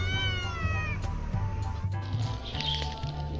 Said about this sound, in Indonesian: Di sini ada tiga anak kucing.